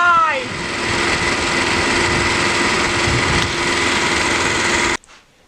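A small engine runs steadily with its exhaust routed through a homemade CO2 muffler for carbon capture with olivine, a loud continuous buzzing drone outdoors that cuts off abruptly near the end.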